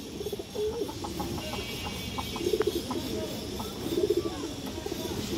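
A large silver Giribaz pigeon hen coos in low, throaty bursts, repeating a few times across a steady background hum at close range.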